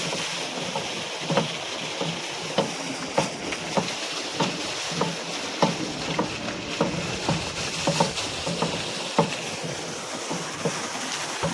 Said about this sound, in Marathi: ते पाच वर स्प्रिंकलर चालू आहे